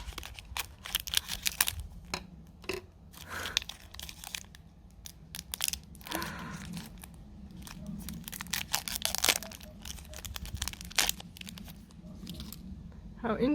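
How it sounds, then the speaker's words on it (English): Scissors snip and crinkle through a plastic-wrapped salted egg yolk snowflake cake from a Chinese convenience store, close and irregular, with crunchy tearing of the wrapper and some talk mixed in. "I might need scissors."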